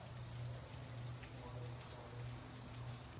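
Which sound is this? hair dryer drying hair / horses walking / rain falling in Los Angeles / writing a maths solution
rain falling in Los Angeles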